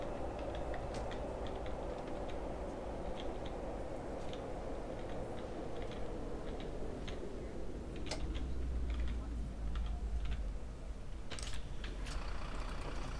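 Sheet metal rattles inside a Mercedes-Benz Citaro city bus in the OMSI 2 simulator, a steady stream of small ticking clatters over the low engine drone, with a deeper rumble swelling briefly near the end.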